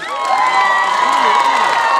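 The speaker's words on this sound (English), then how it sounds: "Come on, give them a round of applause." Cheering and applause from a crowd at a gala night, loud and sustained with whoops and shouts layered over steady clapping throughout.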